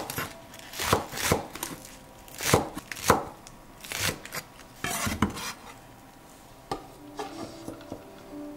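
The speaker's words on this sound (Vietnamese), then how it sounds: "Hành lá thì mình cắt nhỏ ra để chút nữa mình làm mỡ hành nha các bạn." Knife chopping green onions on a cutting board while preparing Vietnamese grilled pork sausage (nem nướng): a series of sharp, close chops in irregular bursts, some double strikes, with brief pauses between and no talking.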